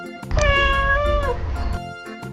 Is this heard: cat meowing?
yes